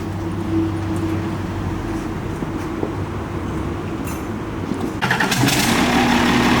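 An Isuzu 6SD1 common-rail truck engine with a 15-inch clutch is heard close up: a low mechanical hum, then a sharp crank and catch about two-thirds through, after which the rough diesel idle grows louder and rumbles on steadily.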